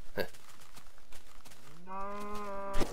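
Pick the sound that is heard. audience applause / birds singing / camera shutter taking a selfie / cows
cows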